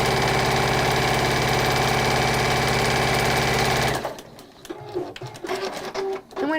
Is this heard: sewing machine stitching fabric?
yes